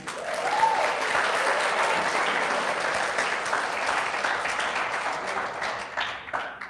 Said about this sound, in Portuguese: Mas se for para Jesus, pode ser melhor esse aplauso, né, irmão?